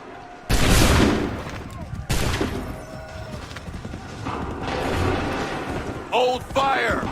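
Musket volleys in Assassin's Creed 3 at the Lexington defense: two loud, sharp massed discharges crack out close together, followed by rattling mechanical handling, shouts and faint horse hooves in the background.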